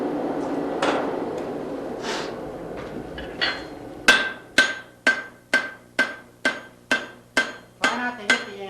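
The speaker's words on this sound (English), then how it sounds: "Put the edge of your hammer at the edge of the stock if you can." Blacksmith's hammer striking hot stock on an anvil, a run of about nine sharp, evenly spaced metallic blows with ringing tails, coming after a stretch of quieter handling noise and faint speech.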